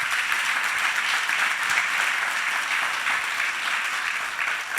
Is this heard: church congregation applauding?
yes